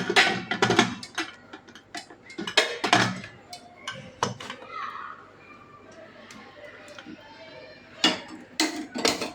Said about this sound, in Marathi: झाकण घट्ट लावून